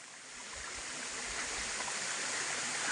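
Steady, dense rush of flowing water, broadband and continuous, swelling slightly louder over the few seconds with no voices.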